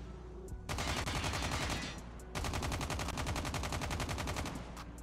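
Rapid automatic fire from a BK57 rifle fitted with a gunsmith magazine in Call of Duty Mobile, two long fast bursts with a brief gap between, followed by a few isolated shots.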